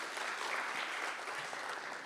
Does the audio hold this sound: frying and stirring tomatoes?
no